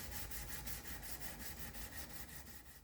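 A knife made from copper mesh is hand sanded with rapid back-and-forth strokes, a steady rhythmic scratching, close and quiet, with no talking.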